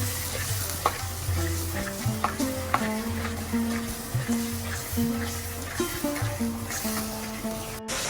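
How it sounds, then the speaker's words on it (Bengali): Spice paste with chili, cumin and coriander powder being stir-fried in oil for a rohu fish curry with potato and beans, a steady close sizzle punctuated by regular scraping strokes of a spatula against the pan. "আমি এখন ভালো করে মশলাটা কষিয়ে নেব।"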